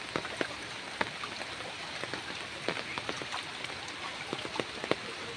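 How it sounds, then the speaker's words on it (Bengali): Heavy monsoon rain falls over flooded fish ponds, a steady wash of patter with scattered close, crisp drops striking water and surfaces throughout. "অনেক বৃষ্টি হচ্ছে, সব পানি আর পানি, চারিদিকে পানি থই থই করছে।"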